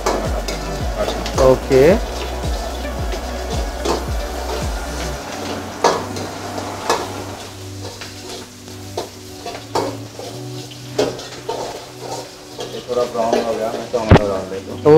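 Onions, chilies and diced capsicum frying in a kadai for dhaba-style kadai paneer, rhythmic spatula scrapes and stirring over a sizzle at first, then quieter frying with a voice speaking briefly.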